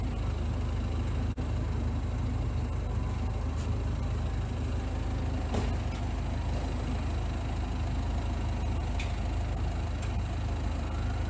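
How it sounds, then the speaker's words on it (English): A parked car's engine idles without pause, a constant low rumble with a faint mechanical tick, fairly loud and close, alone with no talk across the whole stretch. "Turn your engine off and stop idling."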